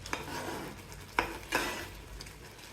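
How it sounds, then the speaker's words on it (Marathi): A spoon stirs a semolina (rava) mixture for modak filling in a pan on a gas flame, making a few distinct scraping strokes over a faint, soft sizzle. "थोडेसे आपले मिश्रण हलवून घेऊया"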